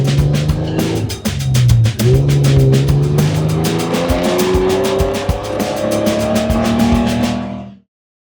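A 1964 Austin Healey 3000 MK2 engine pulls hard as the car accelerates, its tone climbing through gears with a brief dip at a shift, loud and close, then cutting off abruptly.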